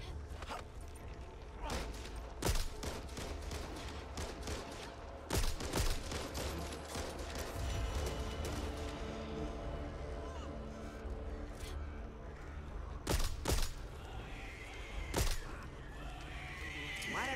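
Gunfire in the zombie shooter video game Back 4 Blood: several sharp shots crack out irregularly over a busy game soundscape, with a burst of rapid fire near the end, while a player talks over the action.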